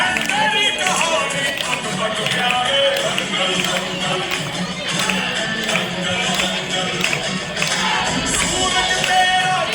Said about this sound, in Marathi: टाळ्या वाजवा, जोरदार टाळ्या